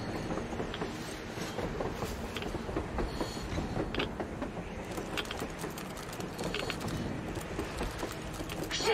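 A train rolling across the surface in the video game Metro Exodus, heard as steady mechanical rumble with creaking metal and clattering rail noise throughout, moderately loud and without talk.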